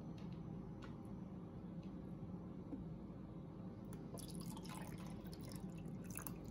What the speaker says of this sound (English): I'm gonna put some water here without spilling,